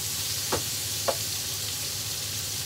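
Vegetables sauté gently in a frying pan with a steady, hissing sizzle throughout, broken by two soft utensil knocks against the pan.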